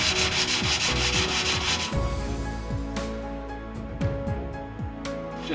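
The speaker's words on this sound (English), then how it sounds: "so I've sanded it with 400 grit" An aircraft rudder on a home-built ultralight is hand sanded with 400 grit sandpaper in steady back-and-forth strokes, a soft rhythmic rasping that repeats close up with no talking.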